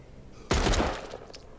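A burst of gunfire in The Walking Dead: Saints and Sinners Aftershock VR, a sudden loud volley of rapid shots that cuts in after a quiet moment and tails off into a fading echo.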